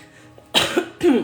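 Two sharp, close coughs in quick succession after a quiet moment.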